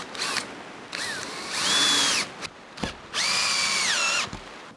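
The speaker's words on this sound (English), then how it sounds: "I'm just gonna whack some screws in from the underside to lock this all together." A power drill drives screws into laminated wood from the underside, in several whirring bursts that rise in pitch, steady and sustained, then stop and restart. Short clicks come between the runs, which are close and loud with no talking.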